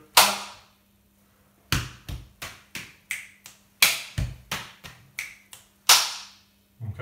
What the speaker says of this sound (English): So chest, chest, slap, slap, click, click, clap.